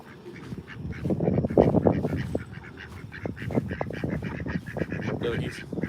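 Backyard ducks quack in a dense, busy chorus of overlapping honking calls, near and fairly loud throughout.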